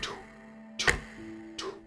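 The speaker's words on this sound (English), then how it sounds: "You would then hear the clock ticking" Two sharp ticks from a clock about three quarters of a second apart, each with a bright metallic ring, over a faint low tone and quiet background.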